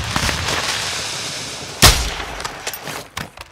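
A single loud, sharp sniper rifle shot cracks out in the Warzone video game at Vondel Park, standing above the steady game ambience, with a few fainter clicks and thuds trailing after it.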